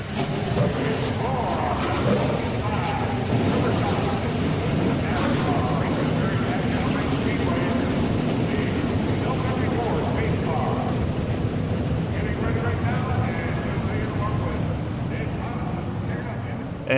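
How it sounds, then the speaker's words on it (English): Stock cars from NASCAR Racing 2003, 1992 throwback field at a 2.5-mile track, roaring together as a dense, continuous engine drone under a commentator's voice. "Gentlemen, start your engines."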